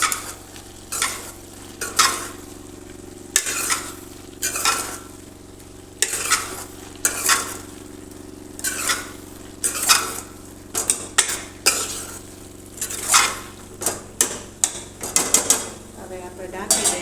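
A spoon stirs red chili powder and coriander-cumin powder through a sizzling vegetable dish in a pan on a gas stove, making repeated close scraping strokes with clinks against the metal over a low, steady fry.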